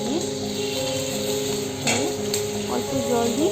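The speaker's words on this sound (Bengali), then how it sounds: "তাওয়ায় তেল নিয়ে নিলাম, নিয়ে মোমোগুলো সাজিয়ে দিলাম, অল্প জল দিয়ে" Veg momos cook on a griddle in oil with a little water, giving a steady, close hiss of sizzling and a few scraping touches of a utensil, while a voice talks over it.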